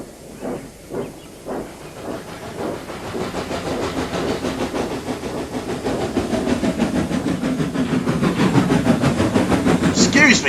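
A steam train pulls in, its steady hiss of escaping steam building with a rising, rhythmic rumble that grows louder and closer; brief voice-like sounds come at the very start.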